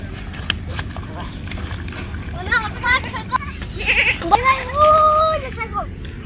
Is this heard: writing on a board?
no